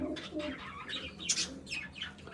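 Domestic pigeons kept for breeding give soft, low cooing calls, repeated several times at close range, with light chirps and a brief flutter of wings against a steady background hum.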